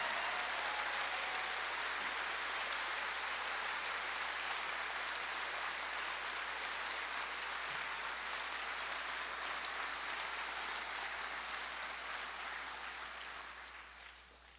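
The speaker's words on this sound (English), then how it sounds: "let's give a big round of applause to all of our veterans and airmen" Sustained audience applause for veterans and airmen of the United States Air Force at a Doolittle Raiders goblet ceremony, a dense, steady wash of many hands that holds for the whole stretch and tapers off at the very end.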